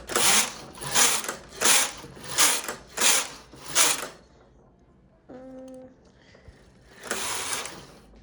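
Carriage of a knitting machine swept across a few rows, giving six rhythmic rasping, clattering passes in steady succession, a short pause with faint mechanical clicks, then one more pass, close and fairly loud.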